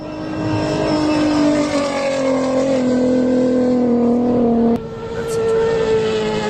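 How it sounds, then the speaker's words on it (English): A Dakar rally race car drives past with a loud, steady engine roar whose pitch slowly falls as it goes by, then cuts off abruptly near the end. "listen to the drive-by of 4 different cars"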